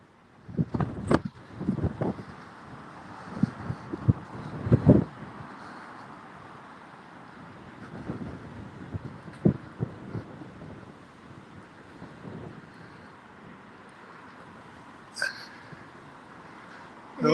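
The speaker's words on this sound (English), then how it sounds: "God, it's so windy." Strong gusts buffet an outdoor microphone overlooking Newcastle's boulevards, a loud irregular rumble with repeated thumping bursts and swells that rise and fall over several seconds.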